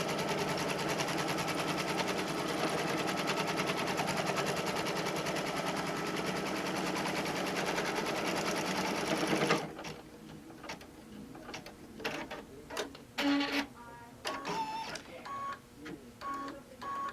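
An embroidery machine stitches around the edge of a zippered pouch held in the hoop, a fast, dense, steady mechanical whir that stops abruptly partway through, leaving scattered clicks, taps and handling noises.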